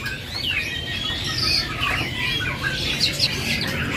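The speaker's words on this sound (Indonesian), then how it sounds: "ini penemukan jalak duren sama jalak putih gacoran" Jalak duren and jalak putih starlings, prized singing birds at a bird shop, give busy overlapping squawks and chirps over a steady low hum of background noise.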